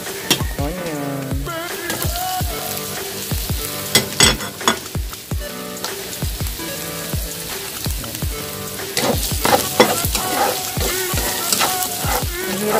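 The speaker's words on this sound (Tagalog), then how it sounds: "Sunod na natin ang onion." Onion, after ginger, fries in a pan for tinolang manok, with a loud continuous sizzle and frequent scraping, clattering stirs throughout.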